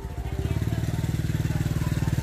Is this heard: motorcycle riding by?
yes